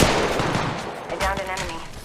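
Automatic weapon fire from the Apex Legends Mobile video game, a dense, continuous burst of shots that stays loud and close from start to finish.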